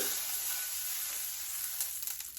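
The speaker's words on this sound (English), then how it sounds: "I can hear it sizzling, but it's not burning the butter" Butter sizzling steadily in a hot pan, a bright continuous hiss with a few crackles toward the end and no talking.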